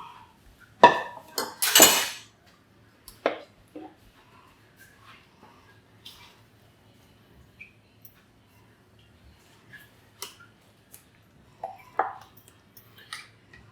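A large silicone spatula works through a thick mixture in a Meenakshi sandwich-bottom kadai, giving a few loud scraping, knocking strokes early on, then softer sparse taps and scrapes over quiet stretches.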